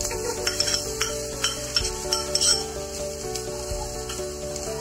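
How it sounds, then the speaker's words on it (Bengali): Sliced onions frying in a small amount of oil for beef keema khichuri, a steady close sizzle with repeated scraping and stirring clinks from a spoon against the pan. "পেঁয়াজটা একটু হালকা ভেজে নেব কিছুটা বাদামি রঙের মতো"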